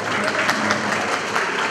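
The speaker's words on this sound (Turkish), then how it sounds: "alkışı bol vurun, siz de ısının, ben de ısınım" An audience at a Nevruz celebration evening breaks into applause, a loud, continuous patter of many hands clapping at close range, with a voice heard faintly beneath it.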